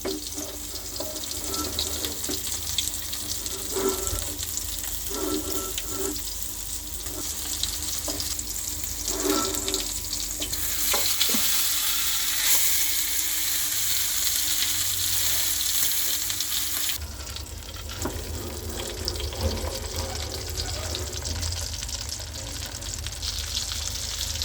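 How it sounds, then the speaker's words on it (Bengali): A whole spiced hilsa fish frying in oil, a continuous hiss and sizzle that swells louder midway and then settles, with occasional soft scrapes as the fish is turned, no voices. "ঘুরিয়ে ঘুরিয়ে ভাজতে হবে।"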